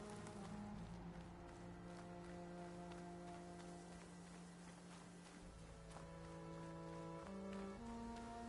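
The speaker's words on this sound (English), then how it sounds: "Rain's letting up." Steady rain falling in the game Horizon Forbidden West, a continuous hiss of drops on surfaces running the whole time beneath sustained tonal music, with faint patter that could be footsteps or hooves.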